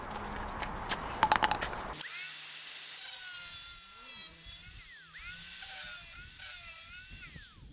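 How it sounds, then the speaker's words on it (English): A grinder trims the brake dust shield on a Lexus IS250: a few sharp clicks, then a loud, continuous high-pitched whine with shifting pitch that dips briefly and resumes close by. "Now we're going to trim down this dust shield"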